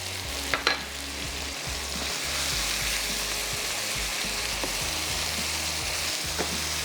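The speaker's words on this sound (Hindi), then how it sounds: "टमाटर की प्यूरी हम इसमें शामिल कर रहे हैं।" Tomato puree sizzles steadily in a hot pan for pasta pizza, a continuous close frying hiss with a few faint clinks of stirring near the start.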